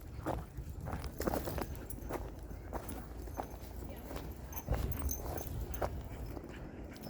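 Large Caucasian Ovcharka and other dogs play at an outdoor dog park, with scuffling paws and footfalls running steadily under the chatter of people nearby.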